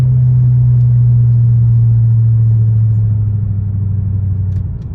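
Mercedes CLK 55 AMG V8 engine heard from inside the cabin with the windows closed, a loud, steady low drone and road rumble that eases slightly toward the end, with no talking.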